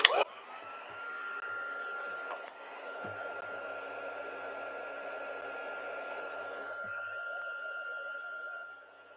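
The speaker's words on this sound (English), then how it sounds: "And get my embossing gun again." A heat embossing gun blows hot air in a steady, close whooshing hiss with a faint whine, starting with a brief click and running continuously for several seconds before cutting off.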